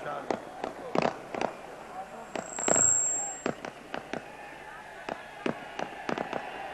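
Firecrackers crackle in a long string of sharp, scattered bangs over several seconds at a political rally in Haroonabad, with crowd noise and a rising whistle or hiss midway, sounding moderately distant.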